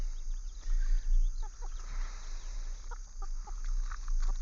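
Chickens and roosters cluck and squawk while feeding over a steady low hum, with short bird calls scattered throughout, close by and moderately loud.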